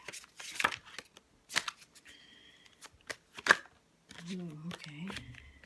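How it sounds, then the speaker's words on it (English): A traditional Rider-Waite tarot deck is shuffled in a few short, crisp riffles at close range, with pauses between them. A voice comes in near the end. "let's just shuffle the traditional Rider-Waite tarot deck"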